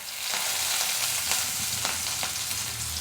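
Onions, curry leaves and mustard seeds fry in hot oil for a Kaaramani (cowpea) poriyal, a steady close sizzle with small crackles and occasional stirring scrapes, no talk.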